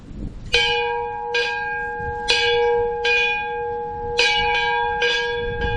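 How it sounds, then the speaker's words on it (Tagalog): A church bell at Caleruega rings in separate clear strikes, each leaving a bright, sustained ringing tone that decays slowly, close and fairly loud with faint background murmur between the strikes. "ring the bell 3 times"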